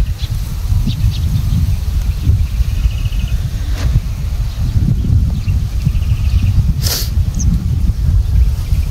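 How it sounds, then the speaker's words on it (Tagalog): Strong outdoor wind blusters against the microphone while a diamond-shaped paper kite is flown, a loud, continuous low roar that buffets unevenly for the whole stretch. "Lakas pala ng hangin ah."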